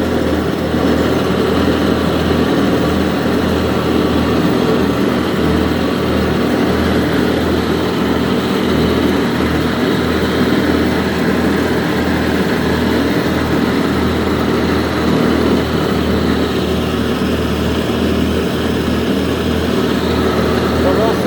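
Farm tractor engines run steadily and loud for the whole stretch, giving a constant low mechanical rumble with no pauses, while a voice talks faintly underneath.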